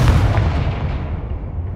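A Confringo blasting spell detonates in Hogwarts Legacy, a loud, broad rumbling explosion that fills the moment and then slowly decays with a dull roar.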